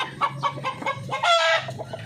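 Darag native chickens cluck loudly and repeatedly at close range while being fed, a busy series of short calls with no talking.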